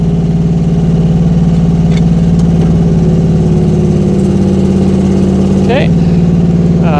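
Rippa R10 mini excavator engine idling steadily at close range as the machine is lowered, with a steady low drone, a brief hydraulic whine near the end and a voice talking over it.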